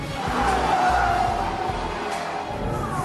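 Tyres skid and squeal over a revving car engine in the Halo 3 video game, a continuous loud screech lasting about three seconds with no talking.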